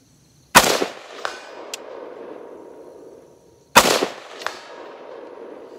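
Two rifle shots with MEPRO FRBS iron sights, each a sharp loud crack with a metallic ping from struck steel following about half a second later, the pair roughly three seconds apart outdoors.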